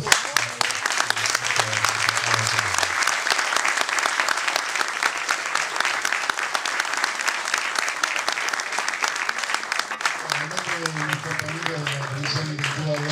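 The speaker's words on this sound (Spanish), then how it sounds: "Y tenemos también el aplausómetro para medir si efectivamente han llegado con el mensaje a nosotros." A live audience at a formal event applauds loudly and steadily, a dense wash of close clapping that carries on for over ten seconds, with brief talk at the start and end.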